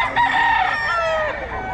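Roosters crow at a chicken market in Bulacan: one loud, close, drawn-out cock-a-doodle-doo with wavering pitch, against faint market background noise.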